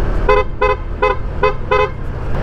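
Five short, loud horn beeps from an upgraded horn on a Honda ADV160 motorcycle in an even rhythm, close by, over a low engine rumble.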